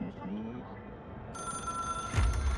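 A telephone rings in the video game Control, a steady repeating electronic ring with a bright sustained tone over a low background hum and rumble.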